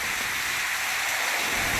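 Steady heavy rain falling during the monsoon in Patan, a dense continuous hiss with no voices over it.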